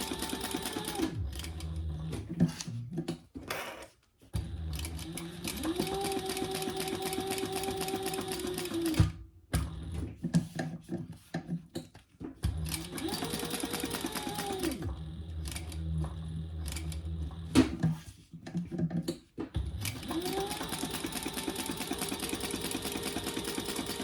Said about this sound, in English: And I'm just going to top stitch. Oops, and I'm going to increase my stitch length.